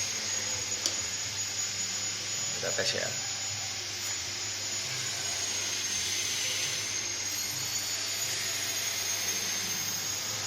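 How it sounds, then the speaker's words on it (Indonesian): Two small electric motors powered from a 12 V car battery whir with a steady, high-pitched hum throughout, joined by a few faint clicks and a brief spoken remark. "Kita kurangin tegangannya dengan menghidupkan 2 buah motor ini"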